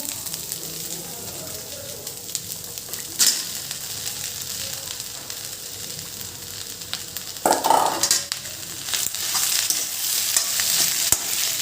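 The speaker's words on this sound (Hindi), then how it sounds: "और अब मैं इसमें डालने वाली हूँ आलू।" Onions and chillies sizzle steadily in a hot pan. Potatoes are then tipped in, setting off a louder burst of frying and stirring scrapes, heard close up.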